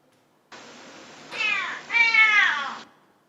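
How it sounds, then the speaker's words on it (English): A recorded cat meows twice in close succession, clear and close, the second meow longer, preceded by a soft hiss of playback noise, then silence. "I have selected here the cat and the dog audios, just so you see how it sounds"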